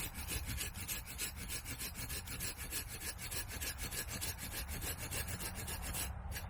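Hand saw cutting through wood for a bushcraft chair, with steady back-and-forth strokes in a quick, even rhythm, close and loud, with no talking.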